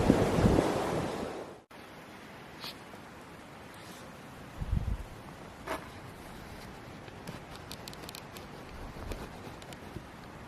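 Flowing river water on a Pacific Crest Trail stretch makes a steady, broad rushing hiss. A loud buffet of wind hits the microphone at the start, then the water continues evenly at moderate distance with a few faint knocks.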